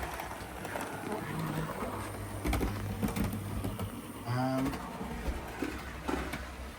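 A model Deltic diesel locomotive, the biggest on a model railway layout, runs around a curve with a faint, steady motor hum and light clicking over the track, quiet and close.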